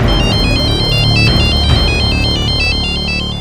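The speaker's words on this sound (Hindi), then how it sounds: "दूसरे दिन एक और फोन कॉल ने इस सन्नाटे को चीर दिया।" A phone ringtone plays loudly and continuously, a repeating electronic melody of alternating high tones over a low steady backing.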